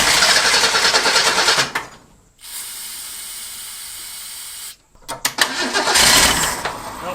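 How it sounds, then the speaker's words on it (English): A Ford Durango with a Duraspark ignition, revived after sitting nine years, cranks from the key in loud hissing bursts, with a near-silent pause between two long starting attempts. "let me hit it from the key"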